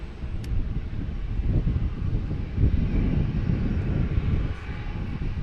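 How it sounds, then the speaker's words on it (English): A JetBlue Embraer E190 jet arriving at Boston Logan from DC makes a steady, broad engine roar with wind noise over the microphone, holding at an even level throughout. "we have a JetBlue flight 8364, which is weird, coming in from DC"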